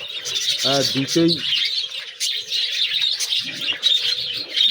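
Caged birds eating basil leaves chirp in quick, bright bursts that run steadily through the clip, with a voice talking underneath.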